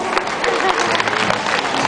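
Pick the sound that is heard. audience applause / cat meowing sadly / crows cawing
audience applause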